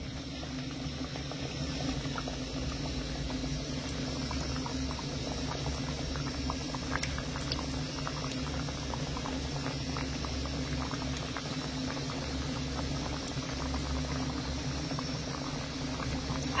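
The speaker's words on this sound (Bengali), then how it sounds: "এবারে জিলিপিগুলো এক এক করে তেলে ছেড়ে দেব।" Semolina jalebi fry in hot oil over a medium gas flame, giving a steady, close, bubbling hiss that holds evenly throughout without talk.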